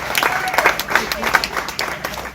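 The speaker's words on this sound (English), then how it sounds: "Give me a round of applause, ladies and gentlemen." A comedy roast battle audience gives a round of applause, with bursts of clapping and some crowd noise rising and falling in uneven waves at fairly close range.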